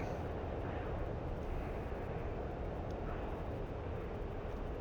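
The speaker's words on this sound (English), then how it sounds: "Full afterburner." An F-15E jet engine roaring on full afterburner in the DCS flight simulator, a steady broad rumble that stays even and fairly faint with no talking.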